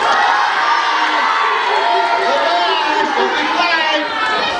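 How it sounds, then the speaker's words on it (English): Children in a school audience at a Lewis and Clark history performance cheer and shout goodbye together, a loud, continuous crowd of young voices yelling and whooping with scattered chatter. "Let me hear you cheer and say goodbye"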